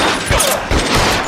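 Loud gunfire in the crime video game L.A. Noire: a burst of heavy, close shots with booming low thumps fills the short moment.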